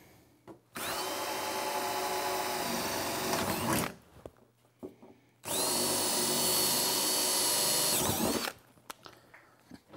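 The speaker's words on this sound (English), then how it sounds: "We're gonna drill a" A power drill bores a 1/4-inch hole in two loud, sustained bursts of high-pitched whirring, each about three seconds long, separated by a short pause with faint handling noise.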